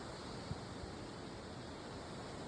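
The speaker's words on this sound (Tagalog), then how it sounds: "maririnig nyo lang dito agos ng tubig" Steady, dense rushing of flowing water fills the scene evenly, a constant hiss with no pauses or voices.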